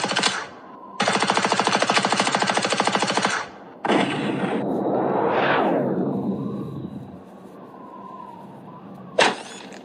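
Rapid automatic gunfire bursts from a sniper action mobile game, long rattling volleys broken by short pauses, followed by a rising whoosh and a final loud shot, with no talk.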